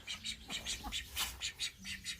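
Ducks near a nest quack in a quick rhythmic series of loud, close squawks, some overlapping, with faint clucks from other birds underneath.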